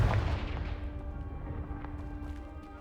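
A single Confringo fire spell blast from Hogwarts Legacy bursts loudly at the start against a pile of blocking debris, then fades into a long rumbling decay with no talking.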